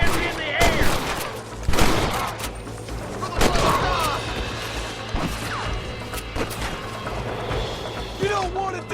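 Gunfight in Red Dead Redemption on PC, a cabin hostage standoff: rapid bursts of gunfire and sharp impact cracks come in clusters, loud and near, with shouted game voices mixed among the shots.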